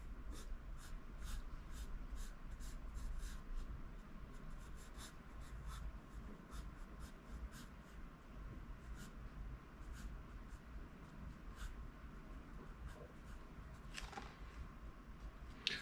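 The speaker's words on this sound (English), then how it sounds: "I'm using an old school ebony pencil here." An old-school ebony pencil draws on paper with close, quiet scratching strokes in irregular bursts, some short and tapping, others longer sweeps, over a faint low background hum.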